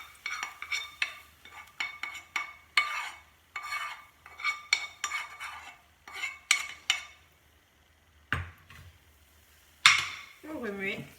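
Spoon scraping and stirring fried onions in a pan, a steady run of clinking, scraping strokes close by, pausing briefly before a few final louder scrapes.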